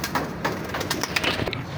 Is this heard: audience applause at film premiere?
no